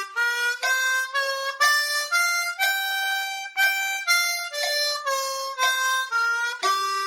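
Harmonica playing steady eighth notes in time, two clean reedy notes per beat with brief gaps between phrases, close and alone with no talking.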